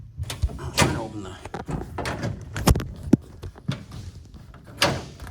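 A 1971 Chevrolet El Camino Super Sport 350 door being worked open, with several close, sharp thunks and latch clicks spread across a few seconds and no talking.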